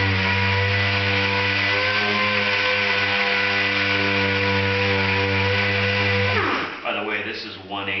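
Power tool stripping rust with 180 grit from the bottom of a Duramax door, a steady strong motor hum with a whining tone that drops off near the end as grinding scrapes take over.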